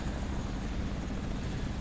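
A helicopter flies by in Crysis Remastered, a steady, dense rotor and engine drone that stays loud and even throughout, with no voices over it.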